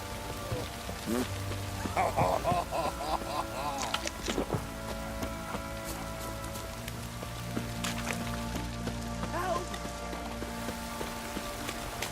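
Steady rain patters across the whole stretch in the video game The Witcher 3: Wild Hunt, with scattered drips and a few short voiced sounds rising briefly over the wash of water.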